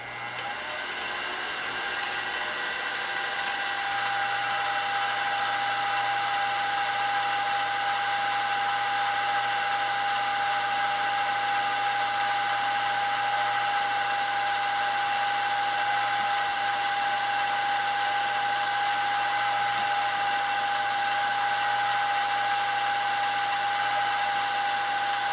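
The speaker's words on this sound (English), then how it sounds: "I'm going to drill down and intersect that other 3/32 port which we drilled earlier" A drill bores a 3/32 port into a small model engine cylinder, a continuous, even machine whine and hum that holds steady for the whole stretch, close and fairly loud.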